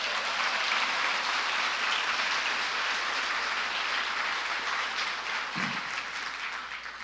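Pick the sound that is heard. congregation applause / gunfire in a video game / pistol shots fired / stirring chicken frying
congregation applause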